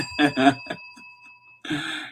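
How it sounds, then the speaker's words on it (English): A small bell is struck twice in quick succession, ringing on with a steady sustained tone, then a burst of sound follows at the end. "You get a bell for that."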